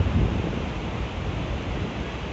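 Small ocean waves at a beach with a steady broadband wash of surf and wind, fairly loud and continuous, with no voices.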